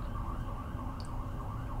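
Emergency vehicle siren wailing with a steady rising-and-falling tone, moderately loud over low traffic rumble, with no talk.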